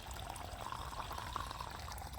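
Water gushes up out of a farm borewell in a steady, continuous rushing flow, close and even, with no voices.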